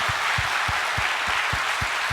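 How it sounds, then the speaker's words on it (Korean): Church congregation applauding in thanks, a steady rhythmic clapping of about four beats per second over a dense wash of many hands, close and continuous, no voices. "우리 하나님께 감사의 박수 드립시다"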